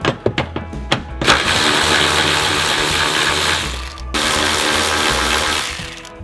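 Ratchet clicking in a few quick strokes on 10mm nuts holding a Lexus IS300 headlight, then a loud, sustained whirring rattle from a power ratchet, briefly pausing before running again.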